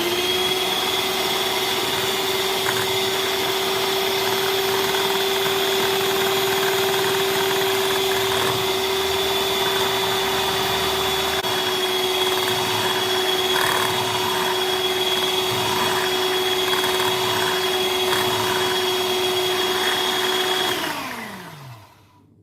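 An electric hand mixer whirs steadily and loudly while beating sugar for a soft tea cake, a constant motor drone with a high whine that runs unbroken for about twenty seconds before winding down and stopping.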